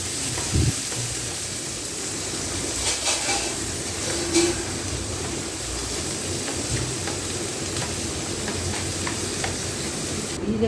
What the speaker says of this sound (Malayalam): അതിന് നമുക്ക് വഴറ്റിയെടുക്കാം, ഉള്ളിയും തക്കാളിയൊക്കെ കൂടെ